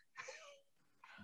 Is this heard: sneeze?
yes